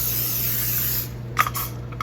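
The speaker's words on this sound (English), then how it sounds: "I'm going to spray the vegetables on top." Cooking spray hisses steadily over vegetables in a pan for about a second, then stops, followed by a few light clicks and faint rustles nearby, with no talking.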